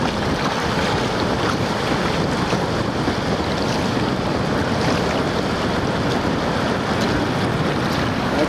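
Ocean surf washing in at Ocean Shores, Washington, a dense continuous roar of water with heavy wind buffeting the microphone, loud and unbroken.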